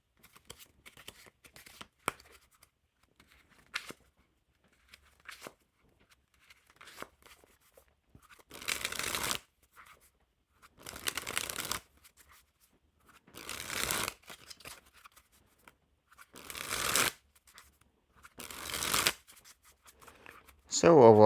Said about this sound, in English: As always, they'll packet cut pretty normally, and these feel fantastic in hand, so they'll feel fantastic when packet cutting.